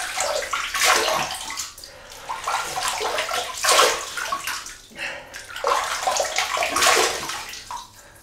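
Tap water runs and splashes in a bathroom sink as the face is wetted before a shave, coming in several bursts with brief pauses between them.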